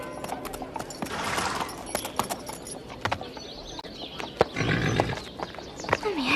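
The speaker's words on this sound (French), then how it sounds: "ces chevaux là, Ce sont les chevaux des soldats" Cartoon horses' hooves clip-clopping in scattered sharp knocks over a busy background, with a few brief, louder swells.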